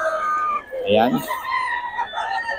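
Chickens at a Friday market on Lazaro Street in Bocaue, Bulacan give a sharp crow-like squawk amid market bustle, close by, while someone speaks briefly.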